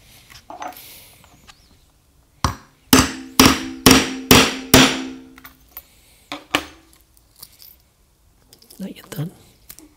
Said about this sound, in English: And we're gonna start hammering it.